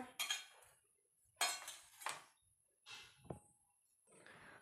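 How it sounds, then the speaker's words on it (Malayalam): A spoon stirs salted bilimbi pickle in a container, producing a few separate, quiet bursts of scraping and clinking with short pauses between them. "നമുക്ക് സ്പൂൺ കൊണ്ട് നന്നായിട്ട് ഇളക്കിയിട്ട് ഇത് കുറച്ച് നേരം റെസ്റ്റ് കൊടുക്കുക"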